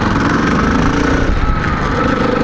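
A Yamaha Serow 250 motorcycle engine runs close by with a loud, dense, steady drone, the throttle being worked while a handlebar warmer is fitted.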